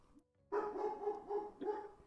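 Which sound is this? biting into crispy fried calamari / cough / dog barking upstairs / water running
dog barking upstairs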